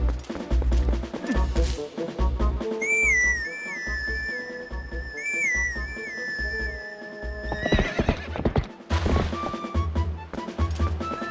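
Horse neighing and clip-clopping hooves from the video game The Legend of Zelda: Breath of the Wild, steady galloping thuds under bright whistling musical tones, loud and close, with no talk.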